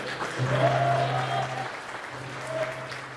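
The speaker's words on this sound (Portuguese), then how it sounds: "Aplauda ele, aleluia." A church congregation bursts into applause during a worship service, a full, even roar of many hands clapping over a low steady electrical hum, with faint tonal sounds drifting beneath.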